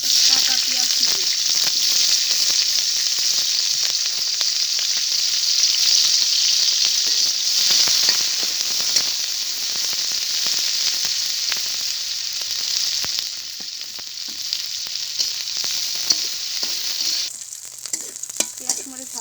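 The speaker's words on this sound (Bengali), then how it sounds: "পেঁয়াজ মরিচ ভাজা হয়ে গেছে।" Chopped onions and green chilies frying in oil in a wok give a steady, loud, close hiss and crackle, with faint stirring, for the whole stretch.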